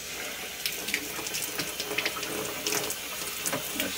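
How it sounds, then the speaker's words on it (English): Cold tap water runs steadily into a tube used to soak rusty pinball machine legs from a Gottlieb Flying Circus, a continuous soft splashing and trickling with faint clinks, no talk. "in this tube, you can just fill up with cold water"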